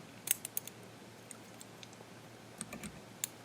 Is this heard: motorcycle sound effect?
no